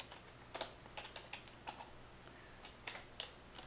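Light, quick keystrokes on a computer keyboard, clicking in irregular bursts against a faint steady hum, quiet and close, with no talk.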